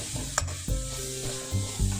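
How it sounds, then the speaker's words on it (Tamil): Chicken fried rice stirred and tossed in a hot pan, with steady sizzling and a few scraping strokes of the spatula up close; no voices. "நம்ம சேர்க்குற சாப்பாடு அளவுக்கு கொஞ்சம் கொஞ்சமாக மிக்ஸ் பண்ணி எடுத்துக்கலாம்."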